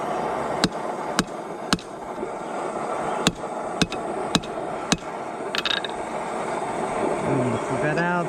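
Hammer blows knock rebar into a pair of blacksmithing tongs being repaired, about eight sharp metallic strikes in an irregular rhythm, close and clear over a steady background hiss.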